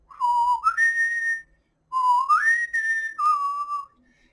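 A whistled melodic theme tied to the character Padan Fain in The Wheel of Time, heard as two clear phrases of gliding, rising and falling notes separated by a short pause, loud and close with no talk.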